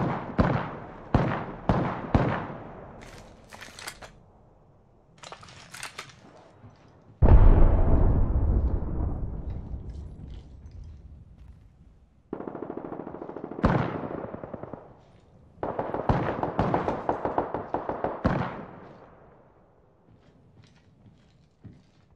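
Video-game gunfire rattles out in sharp single shots and quick bursts, then louder sustained volleys with pauses between them. No one speaks.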